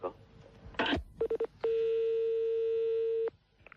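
A telephone number is dialed on a phone line: a short burst of noise, then three quick tone beeps followed by one long steady tone lasting well over a second, clear and fairly loud, with no talking.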